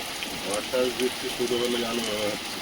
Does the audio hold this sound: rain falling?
yes